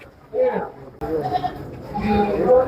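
Several goats bleat nearby at a livestock market, their wavering cries overlapping with people talking close by.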